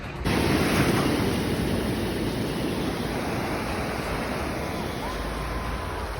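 Waves break on the wide, sandy La Concha beach in the Basque Country, a steady broadband roar of surf mixed with wind buffeting the microphone.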